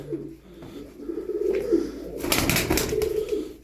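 Close, loud soft cooing comes from a group of tumbler pigeons, repeated throaty coos with some rustling and a brief burst of wing movement.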